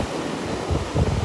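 Ocean waves rolling onto the beach at Delnor-Wiggins on a morning walk, a steady washing roar with wind buffeting the microphone and a slight swell toward the end.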